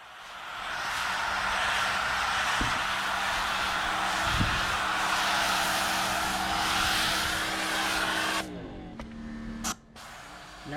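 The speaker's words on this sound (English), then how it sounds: "I'm foaming up the car here." A foam cannon sprays a thick layer of Gyeon Foam soap onto a car during a wash, a steady loud hiss that runs for about eight seconds and then cuts off into a few short bursts and pauses.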